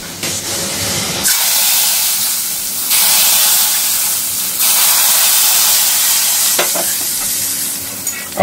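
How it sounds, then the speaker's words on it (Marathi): Garlic and asafoetida tempering hits hot oil over shevla (dragon stalk yam) bhaji, a loud steady sizzle and hiss that surges in waves as the pan is stirred, with a few clinks near the end. "लसूण आणि हिंग ह्याची आपण आता फोडणी टाकतो याच्यामध्ये"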